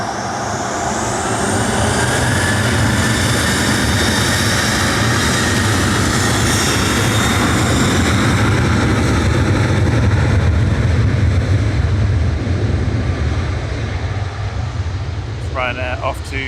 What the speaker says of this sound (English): Ryanair off to Copenhagen there, 737-800 EIDWG, flight 6967